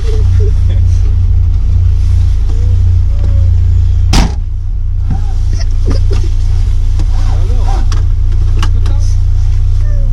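A Lotus sports car engine idles with a deep, loud rumble and revs briefly in a sharp burst, then settles back to a steady low drone, with someone talking nearby over it.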